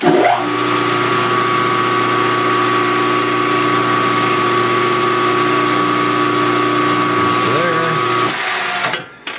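A steady machine whine runs for several seconds as a drill bores into metal, close and constant, then winds down abruptly near the end.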